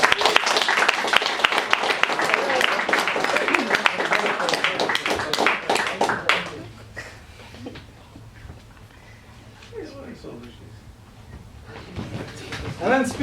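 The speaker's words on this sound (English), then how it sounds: "Another round of applause for these champions." An audience at a games medal ceremony claps loudly for about six seconds, then the applause fades to scattered claps while an amplified voice speaks in a hall.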